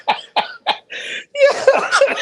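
A man with a lingering cough despite days of antibiotics gives three sharp, close coughs in quick succession, then a raspy breathy hack that trails into wheezy, strained coughing.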